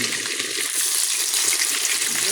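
Water runs steadily from a kitchen tap as raw chicken liver is washed for a Jamaican fried liver dish, a constant close hiss and splash with no pauses.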